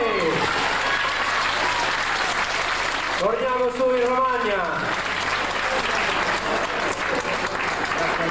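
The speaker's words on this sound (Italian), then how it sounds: "un applauso forte" Audience applause at an Italian village festival with a lottery, loud continuous clapping from a crowd that carries on while someone speaks over it through a loudspeaker.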